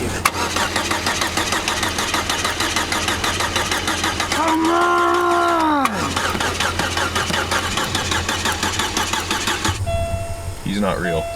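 An off-road DIY build car's engine cranks repeatedly without catching, a steady mechanical churn with a rising whine in the middle, ending in quieter clatter; loud and close throughout.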